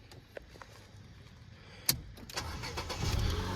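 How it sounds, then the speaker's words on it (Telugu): A 2016 Ford Figo petrol car starts up with a sharp crank burst, then the engine catches and settles into a steady idle, heard close and alone. "ఇప్పుడైతే నేను ఇంజన్ అయితే స్టార్ట్ చేస్తున్నా"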